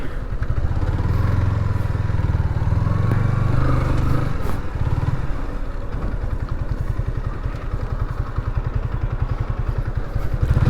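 A motorcycle engine runs close by, idling with a steady low rumble and a rapid pulsing throb that continues throughout.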